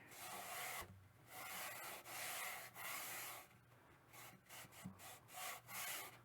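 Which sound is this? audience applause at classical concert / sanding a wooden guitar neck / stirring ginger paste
sanding a wooden guitar neck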